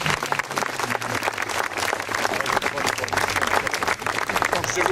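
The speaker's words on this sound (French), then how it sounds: "Vous pouvez les applaudir." An audience at an anniversary ceremony applauds arriving joggers, dense continuous clapping from a crowd throughout, fairly close, with a voice speaking over it.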